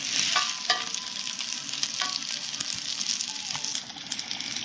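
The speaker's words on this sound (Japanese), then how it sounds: "大体こういう感じでしっかりと両面を焼きますよ" Gyoza fry in a pan with a constant bright sizzle up close, punctuated by a few light taps and scrapes of a utensil.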